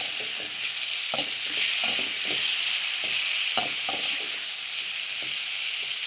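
Ingredients sautéing in a pan, with a continuous close sizzle and intermittent scraping stir strokes, and no talk.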